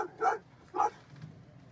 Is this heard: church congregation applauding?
no